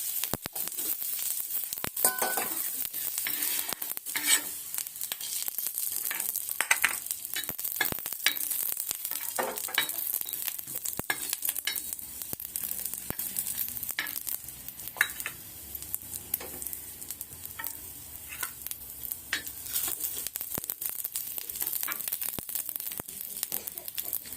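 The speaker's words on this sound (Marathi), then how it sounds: "अशा प्रकारे भाजून घ्यायचा या लसूण पाकळ्या घालून" Garlic cloves dry-roasting with onion in a pan for chilli thecha, a faint crackling sizzle with scattered scrapes and rustles of stirring, quiet and close, no voices.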